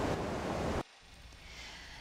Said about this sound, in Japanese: 興津川の取水口に来ています